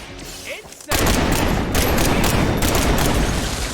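Sustained rapid gunfire from a mag-dump attack in the video game Marvel's Midnight Suns bursts in loud after a quiet start and rattles on densely to the end.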